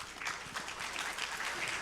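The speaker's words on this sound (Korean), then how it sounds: "그러면 교수님의 이야기를 박수로 청해 듣겠습니다." Faint, distant applause from a conference audience welcoming a professor at a Korean science and technology gathering, a brief wash of clapping.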